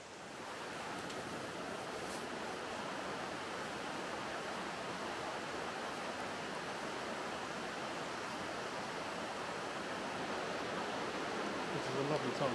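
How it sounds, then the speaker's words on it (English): Steady rushing water of a stream cascading down a ravine, a dense continuous wash of splashing flow, close and fairly loud throughout without pause. "There's a lovely stream that just sort of cascades down this ravine here."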